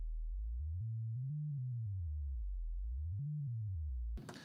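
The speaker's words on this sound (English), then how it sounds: "I use sine waves to test my subs, to test what frequency my subs can produce." Steady low sine test tones for checking subwoofers, played through a Midas M32 or Behringer X32 mixer, glide slowly up and down in pitch with no talk, cut off by a brief noise at the end.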